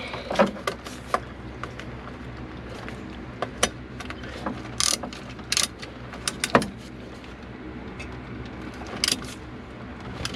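A ratchet tightens a part during a shift tube replacement on a 1993 Ford F150, giving scattered short mechanical clicks and metallic clinks over a steady low background, close by with no talk.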